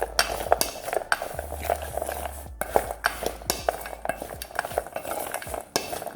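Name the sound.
mixing frozen blueberries with tapioca flour in a bowl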